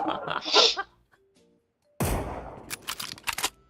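Gunshots in a battle royale game, a sudden loud burst of shots with a sharp onset followed by several cracking reports, after a short stretch of quiet and some earlier noise.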